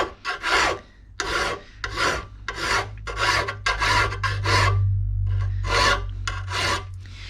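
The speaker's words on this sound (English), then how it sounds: "you're just sharpening towards the pointed end" A hand file rasps along a lawn mower cutting blade toward its pointed end, in steady, evenly spaced strokes, each a loud gritty scrape with brief pauses between, close and alone.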